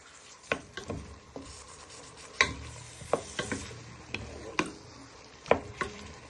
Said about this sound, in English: Then you give that all a good stir.